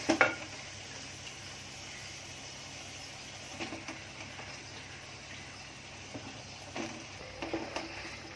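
Eggplant goes into a pan of tomatoes cooking for Konkani-style aloo baingan, bringing a clatter at the start, then a low steady sizzle with occasional soft stirring scrapes, close and fairly quiet, with no talking.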